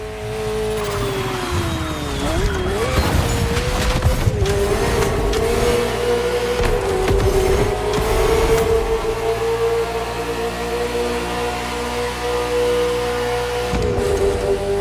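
A Ferrari F40 driving in The Crew Motorfest, its engine revving loudly and shifting pitch through gear changes, with tire squeal and skidding as the car corners hard at speed.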